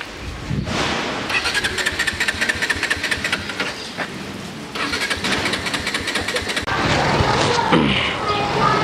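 A motorbike's electric self-starter cranks the engine and it catches, then runs in a rough, steady idle with a few surges. The sound is close and loud, with no speech.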